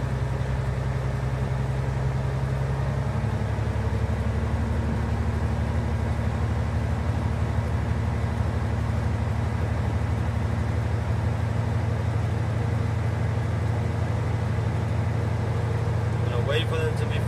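Heavy truck diesel engine revving up steadily to build air pressure in its air brake tanks during a pre-trip inspection, a continuous loud low drone holding for the full stretch.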